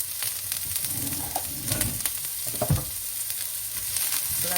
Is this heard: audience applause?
no